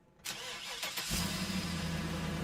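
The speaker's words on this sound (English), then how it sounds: "You might hear that sound and think it's a semi-truck, but guess again. It's the Oscar Mayer Wienermobile" After a moment of quiet, the Oscar Mayer Wienermobile's engine cranks and catches, then settles into a loud, steady idle rumble heard close by with no voices.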